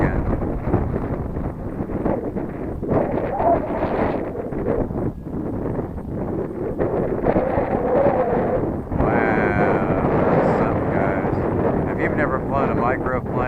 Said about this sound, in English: Never flown a microplane in this kind of wind.